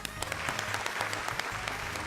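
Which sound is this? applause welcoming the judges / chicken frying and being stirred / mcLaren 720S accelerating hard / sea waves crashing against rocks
applause welcoming the judges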